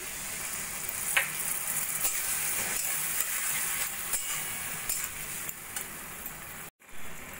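A splash of water in a hot pan for chilli paneer, alongside lemon juice and spices, gives a continuous close hissing sizzle with faint ticks, then a brief cut near the end.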